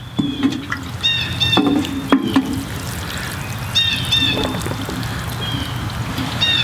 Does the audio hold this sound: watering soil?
yes